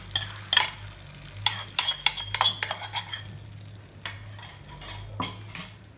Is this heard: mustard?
yes